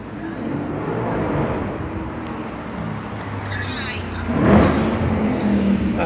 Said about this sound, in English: The cars, I'm telling you, you can hear.